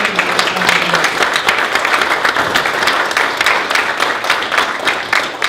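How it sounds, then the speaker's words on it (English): An audience claps in a big round of applause for Sandy at a Christina Lake community gathering, a dense, steady burst of many hands lasting throughout at close range, with a brief voice underneath near the start. "could you give a big round of applause for Sandy"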